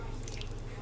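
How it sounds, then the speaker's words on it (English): Water trickles briefly and faintly from a tap into a strawberry-shaped ice cube mold, a soft steady splashing. "You put some water in each of them, as I am doing here in this example."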